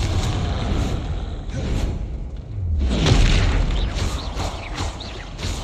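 A Confringo spell explosion in the Hogwarts Legacy video game lands as a deep, loud boom about midway, set against constant dense game noise and effects.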